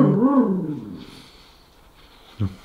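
A dog growls and whimpers close by in a quiet room, a rising, wavering vocal sound at the start that fades, then a short sharp yelp near the end.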